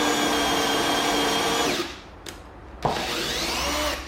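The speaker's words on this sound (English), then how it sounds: "Using a 22mm auger bit, we can then drill the 3 holes on the outside face of the door" A power drill with a 22mm auger bit bores into a wooden door, a loud close whine that stops briefly, then restarts for another hole.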